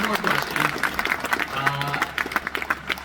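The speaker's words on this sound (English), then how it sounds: "round of applause for that" An audience at a talk breaks into a brief round of applause, moderately loud clapping with a voice and crowd murmur over it.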